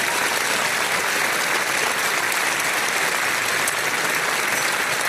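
Applause from a live audience at a Swiss television show in Chur: dense, continuous clapping at a steady level for the whole stretch, with no talk over it.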